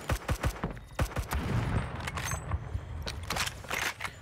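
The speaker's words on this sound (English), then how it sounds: "the weapon I'm using here, the BFG-50, is basically a pipe designed to shoot a 50 BMG." Video game gunfire from the BFG-50, a .50 BMG rifle in Phantom Forces, mixed with other weapons: a rapid volley of sharp shots at the start, then further scattered blasts over a busy battle background.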